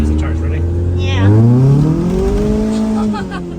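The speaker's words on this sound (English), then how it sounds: "That spins them tires" Old, worn 14-year-old tires on a Honda CRX HF spin as the engine revs up, pitch climbing steadily before easing off, loud and close with brief voices in the background.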